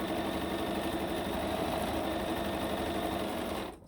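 A sewing machine runs in a steady, close, buzzing whir while stitching pieces of a Dutchman's Puzzle quilt block, stopping abruptly just before the end.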